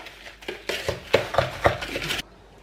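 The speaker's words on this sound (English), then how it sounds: "we're going to get our cocoa powder, and we're going to be very generous with our cocoa powder. And you're going to mix that together" A spoon stirs crushed digestive biscuits and cocoa powder in a bowl for a no-bake chocolate and hazelnut cake. Scraping knocks and clinks come in uneven bursts, fairly close, then the sound stops abruptly.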